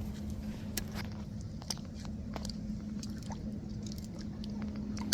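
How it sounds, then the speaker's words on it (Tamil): Pearl millet porridge squished and mixed by hand with buttermilk, soft wet squelches repeating close up over a low background hum. "நல்லா மோரை ஊற்றி நல்லா நம்ம கட்டி விழுவாமல் நல்லா பிணைஞ்சு எடுத்துக்கிறோன்னு"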